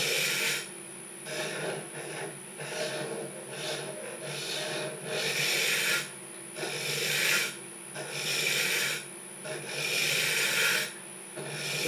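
A finishing scraper cuts a 12-inch wooden fruit bowl on a lathe, giving repeated rasping, rubbing passes in even bursts of a second or so with brief pauses between, over a constant machine whine.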